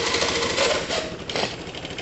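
A motorcycle or scooter engine being started for a pre-MOT check, running as a steady, buzzy, close-up mechanical drone throughout with no talk.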